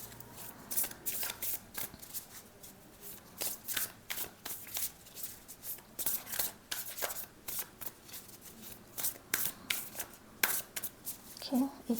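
A tarot card deck being shuffled by hand in quick, irregular riffling and slapping bursts, close but fairly quiet, while a voice talks intermittently between them.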